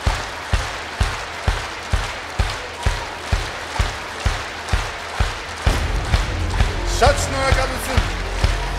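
A concert audience claps along in a steady rhythm, about two claps per second, crisp and close. Around the sixth second the beat gives way to a broader wash of applause and crowd noise.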